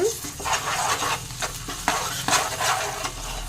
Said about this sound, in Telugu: ఫ్రై అయిపోయినాయి కాబట్టి ఇంకా చక్కగా అల్లం వెల్లుల్లి పేస్ట్ అయితే వేసేసుకుంటాను